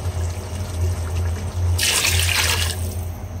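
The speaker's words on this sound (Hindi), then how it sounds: "अब इसके अंदर हम पहले पानी ऐड कर देंगे" Water is poured into a pan of mutton and potato kofta curry, a short splashing rush lasting about a second over steady low kitchen hum.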